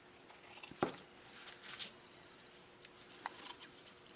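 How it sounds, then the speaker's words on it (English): Scissors snipping out a paper postage stamp for a journal craft, a few faint, sparse cuts and rustles in a quiet room. "And I'm not being careful, I'm just kind of haphazardly cutting."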